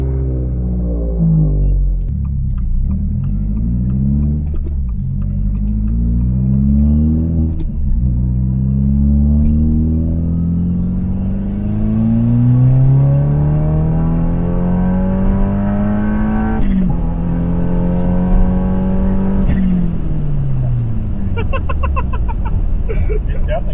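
A 2022 Subaru WRX on E85 fuel idles, then pulls hard through repeated rising revs with gear shifts, a loud, close rumble climbing and dropping over and over.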